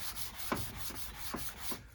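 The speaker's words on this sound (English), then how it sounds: "now we're gonna start the on the stock. Start sanding it down some." Rhythmic rasping strokes of 220-grit sandpaper rubbing across a wooden rifle stock, several even back-and-forth passes close up with no talking.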